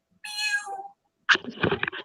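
A person imitates a cat with a drawn-out, high meow, followed by a short burst of laughter and voices nearby, close and fairly quiet.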